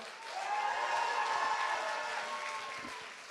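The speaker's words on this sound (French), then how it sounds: "On peut les applaudir encore." An audience at an evening young-talent showcase gives sustained applause for two performers, a dense, steady wash of clapping heard from some distance, swelling slightly and then easing off.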